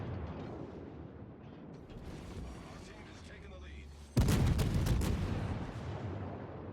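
Naval gunfire in World of Warships, a low rumbling mechanical backdrop that breaks into a sudden loud booming salvo, then a sustained roar trailing off.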